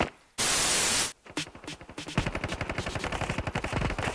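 Gunfire in the mobile shooter Standoff 2, a burst of harsh static followed by a rapid, loud stream of automatic shots.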